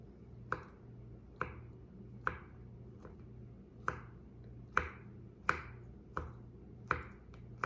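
A knife slicing through food on a cutting board in a home kitchen, about a dozen crisp, evenly spaced chops with a steady hum underneath.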